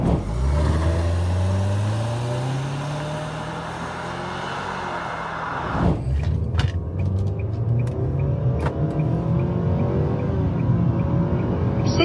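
A Nissan Sentra sedan accelerates hard during a 0-100 km/h test, its engine note climbing loud and close through the revs, then dropping at a gear change before rising again.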